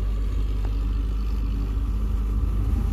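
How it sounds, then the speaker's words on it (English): A 1999 Ford Ranger engine with a P0171/P1074 fault runs close by with a low, steady rumble, rising slightly as it is revved a little, no talk over it. "I'll rev it up a little bit."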